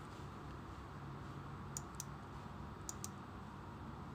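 Computer mouse clicks on a PC during data-logging software setup, a few faint, sharp clicks in pairs over a steady hum of background noise.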